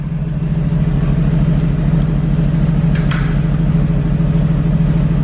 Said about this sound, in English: Normal, Sport Plus, give it a tiny rev